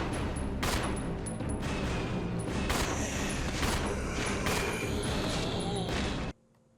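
Gunfire in the video game Resident Evil 0, a dense run of repeated shots at steady loudness with sharp bursts throughout, cutting off abruptly near the end.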